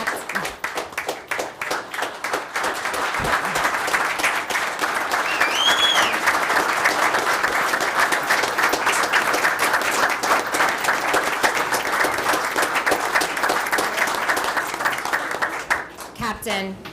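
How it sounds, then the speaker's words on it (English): A township council meeting crowd gives sustained applause honoring police and firefighters, a thick, even clapping that runs for most of the stretch before tapering off, with a voice briefly audible near the end. "One more round of applause for our finest and our bravest."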